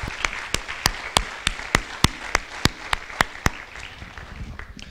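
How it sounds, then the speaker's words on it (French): A medical conference audience applauding speaker Chloé James, with sharp, evenly spaced rhythmic claps standing out over a softer wash of clapping that fades near the end. "on va applaudir Chloé James pour son super"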